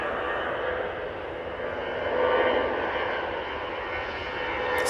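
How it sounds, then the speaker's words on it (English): A Virgin Atlantic Airbus A350-1000 arrives at Manchester Airport from New York. Its jet engines make a steady, moderately distant roar that swells slightly midway. "Virgin Atlantic A350 1000 coming in from New York."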